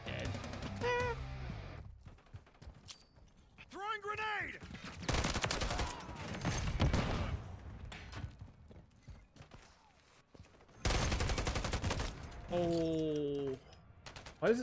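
Gunfire in Call of Duty MW3, bursts of automatic fire and single shots separated by quieter stretches of mechanical clanks and movement, with people talking over the game.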